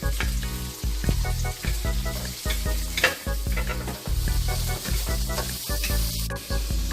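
Garlic and onions sauté in a pan, a loud, close sizzle broken by repeated rhythmic scraping and stirring strokes of a utensil against the pan, with no voices.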